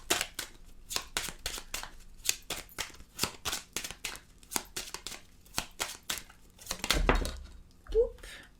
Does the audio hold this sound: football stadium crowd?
no